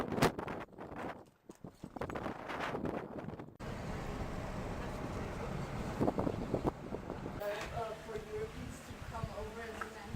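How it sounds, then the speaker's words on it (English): Hooves of carriage horses clip-clop on a street in Trinidad, Cuba, amid wind buffeting the microphone and general outdoor noise, with a voice speaking partway through. "Lots of horse-drawn carriages."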